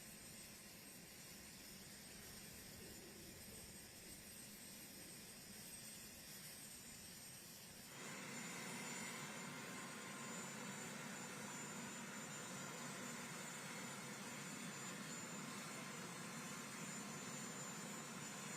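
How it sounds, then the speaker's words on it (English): Helicopter engine noise in a video game, a steady whining mechanical drone that jumps louder and brighter about halfway through and then holds at a constant level, with no talking. "Great helicopter noises."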